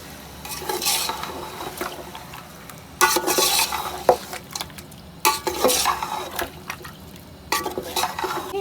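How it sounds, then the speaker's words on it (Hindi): Spices with garlic and ginger being fried and stirred in a pot for a homemade korma, the spoon scraping in repeated loud bursts over a steady sizzle, with no talking. "अच्छी तरह भून लेते हैं मसाले को"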